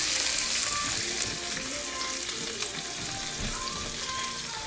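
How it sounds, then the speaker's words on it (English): Milk with a little butter heating in a pot on the stove, giving a steady close hiss and soft crackling bubbles throughout, with no talking. "I'm gonna boil the milk with a little butter in it"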